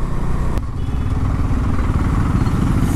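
A Bajaj Dominar 250 motorcycle engine thrums at a steady, close, loud idle with one brief click as it is shifted into first gear, with no talk over it.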